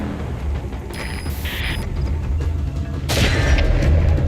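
Gunfire and explosive booms in Metal Gear Solid V, a couple of sharp bursts and a heavier blast near the end over steady background rumble, with no talk.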